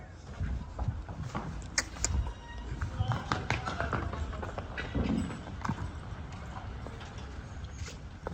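Horse hooves clip-clop in an irregular series of taps over a busy, noisy background with some distant voices, at a horse sale.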